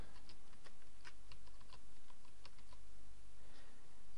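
A password is typed on a computer keyboard for a manual WordPress install: a close, uneven run of quick key clicks with no one talking.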